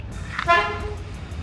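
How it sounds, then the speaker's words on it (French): A single honk-like car horn tone sounds briefly in the middle, fairly close, over a low rumbling street background in Sapa, Vietnam, with no talking. "Par contre, il y a des klaxons, hein? T'as vu les klaxons"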